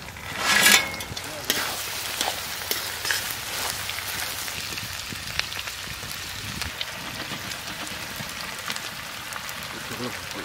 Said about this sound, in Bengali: এখন দিয়ে দেবো আমরা কিছুটা ঘি, এখন আমরা দিয়ে দেবো ভেজে নেওয়া চিকেনের টুকরো